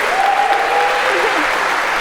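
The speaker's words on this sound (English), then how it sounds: "a huge round of applause" Audience applause filling a lecture hall, a steady wash of clapping that holds evenly for about two seconds, with a faint voice or tone running underneath.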